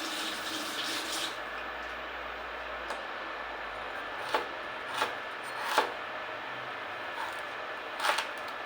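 A knife slices through ginger on a cutting board while a home cook prepares a meal, producing a few sparse, distinct cuts that land as separate ticks at irregular intervals over a low background.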